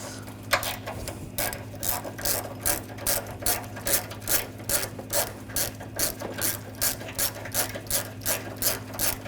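A ratchet wrench with a 10mm socket backs out the bolts of the grill bumper guard on a 2004-2008 Ford F-150, giving a fast, even train of sharp clicking strokes up close, with no talking.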